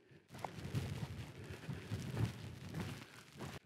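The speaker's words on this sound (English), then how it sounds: "It's chucking it down now." Heavy rain pours down on an open moorland walk near Stanage Pole, a steady, dense hiss that stays loud and even for the whole stretch, with no voices.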